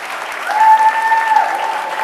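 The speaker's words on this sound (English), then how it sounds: "Let's give him a round of applause." Steady applause from a crowd at a Remote Area Medical press conference, dense and even for the whole stretch, with a thin sustained whistle-like tone riding over the clapping.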